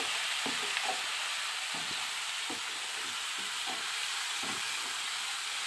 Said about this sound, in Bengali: নেড়ে দেবো ভালো করে।